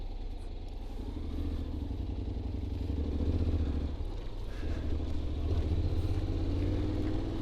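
Honda X-ADV scooter engine idling in first gear with sport mode selected, a steady low rumble held close and continuous throughout with slight swells in level.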